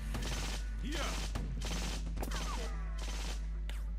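Gunfire in a Stalingrad battle video game, with an anti-tank gun among the shooters: repeated bursts of sharp shots in roughly regular clusters over a constant low hum, with brief mechanical sounds between them.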